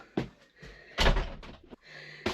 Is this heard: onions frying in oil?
no